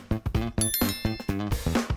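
A bright, bicycle-style notification bell rings rapidly many times in a row, loud and close, with no voices.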